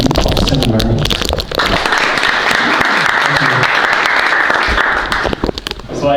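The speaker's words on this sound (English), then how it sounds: "Please give a warm applause to Eiko" Loud, close audience applause for a speaker at a talk, a dense wall of clapping that starts after a few spoken words and stops near the end as speech resumes.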